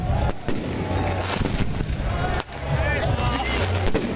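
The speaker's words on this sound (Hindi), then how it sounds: "मलिक अहमद खान की जीत की खुशी में आतिशबाजी का मुजाहरा किया गया" Fireworks going off in celebration of an election victory in Kudiya, Pakistan, a dense run of crackling pops and bangs throughout, mixed with crowd noise and talk.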